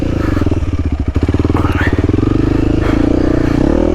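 A Honda CRF300L motorcycle ridden hard offroad, its engine chugging in a rapid steady pulse with throttle swells, loud and close, with clattering and scraping from the terrain.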